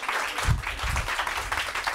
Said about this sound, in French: Ça va être déjà des tonnerres d'applaudissements.